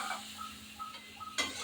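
A spoon stirs kabuli chana in a pot while cooking, giving soft scraping and light clinks close by, with a brief louder scrape near the end.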